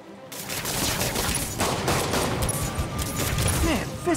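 Sustained gunfire in the video game Marvel's Spider-Man: a dense, loud fusillade of overlapping shots and bursts running nearly unbroken, with occasional voice chatter in the mix.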